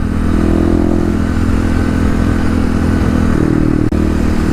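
A Kawasaki KLX351 motorcycle fitted with new Pro Taper bars runs at a steady mid-pitched drone, its engine close and continuous with light mechanical clatter and a brief break near the end.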